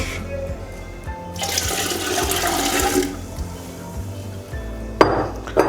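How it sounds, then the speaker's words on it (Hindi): About two litres of water pours into a cooking pot holding garlic cloves and ginger for a Lahori-style mutton paya: a loud, steady rushing gush for a second or two, then a sharp clink of metal near the end. "और हम डालते हैं जी पानी, तकरीबन 2 लीटर है पानी,"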